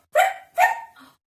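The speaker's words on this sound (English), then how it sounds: "Beware of the dog." A dog barks twice in quick succession, loud and close, followed by a softer short whimpering yip, with silence around the barks.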